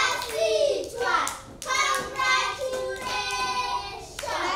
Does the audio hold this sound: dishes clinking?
no